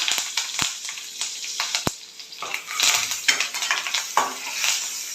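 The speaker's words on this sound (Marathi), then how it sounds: "फोडणी छान ढवळून घ्यायची" A metal spoon scraping and clinking against a pan while stirring a spice tempering of asafoetida, turmeric and curry leaves, irregular knocks and scrapes over a faint sizzle.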